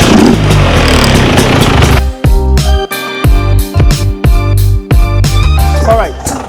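Sherco motorcycle engine warming up before a service, a loud close idle that breaks into repeated sharp revs, with the engine note rising and falling in short bursts.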